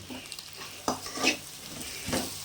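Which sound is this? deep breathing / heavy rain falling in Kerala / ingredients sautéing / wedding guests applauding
ingredients sautéing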